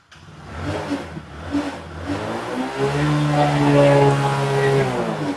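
A 125 motorcycle engine starts up close by and revs, its pitch climbing and holding through the second half, with a steady running rumble underneath.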